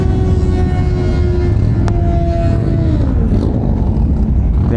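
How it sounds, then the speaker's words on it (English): A motorcycle on a dyno at a bike meet roars loud and close, its steady high-revving engine tone holding and then sliding downward as revs drop, with a dense rumble throughout. "We're on the dyno right now."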